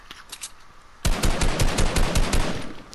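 Rapid gunfire in Fortnite during a final circle at Tilted Town: after a quiet second with faint background game sounds, a loud burst of rapid repeated shots rattles on for about two seconds, then tapers off.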